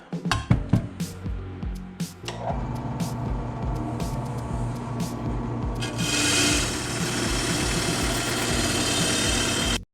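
A wire wheel scrubs grime off a car differential, a steady, harsh rasping hum that runs on continuously after a few opening knocks and clatters, growing slightly louder and brighter partway through, close by with no voices.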